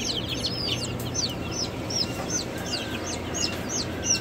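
Chickens on a homestead chirp and cluck close by, a busy run of short, high peeping calls repeating over a low, steady background hum.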